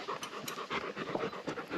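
A dog pants in quick, rhythmic breaths close to the listener, alone and fairly soft, in a short burst.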